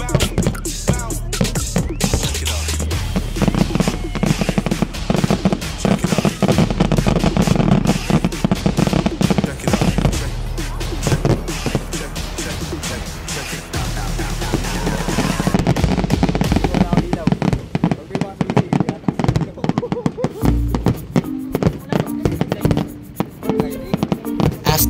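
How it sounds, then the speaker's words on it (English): Rapid crackling bursts and booming pops of UAE National Day fireworks go off continuously, loud and overlapping, with excited voices cheering now and then. "after watching the fireworks"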